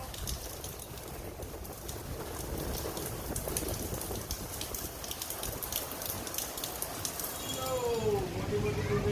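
Heavy rain in Karachi, big drops pattering steadily and close with a dense, even hiss; a dove coos briefly near the end.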